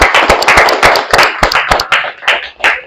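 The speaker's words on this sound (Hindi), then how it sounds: "एक बार जोरदार तालियां सब लोगों के लिए" Close, loud audience clapping at a motivational talk, with uneven individual hand claps standing out in a quick irregular rhythm.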